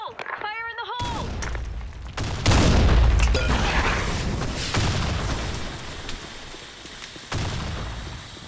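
Grenade blasts in the BlackShot shooter game: loud booming explosions with rumbling tails, preceded by a short voice line, then repeated heavy bursts over continuous gunfire-like din.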